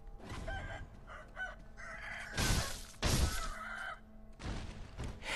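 Rooster clucks and crows as it is killed in the video game Sekiro, several loud bursts in quick succession over a continuous game soundscape.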